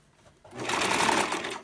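A sewing machine stitches a closure wig, its motor starting after a short quiet moment and then running in a fast, continuous, close-up whir.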